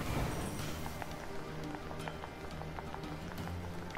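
Running footsteps from the video game Nier Automata make a quick, even patter of light steps over a soft background of game music, with no talking.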